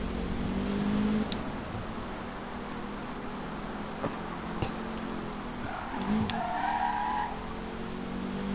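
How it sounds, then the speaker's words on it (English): Cars drift through Need for Speed Rivals with long tire squeals and skids over steady engine drone, several screeches rising and fading, no talking. "Everyone in this session can drift"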